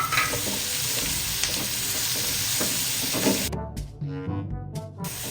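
Tomatoes for a Filipino chicken stew (kinamatisang manok) sizzle and crackle steadily in a hot pan, being stirred, with the frying dropping to quieter scattered crackles near the end.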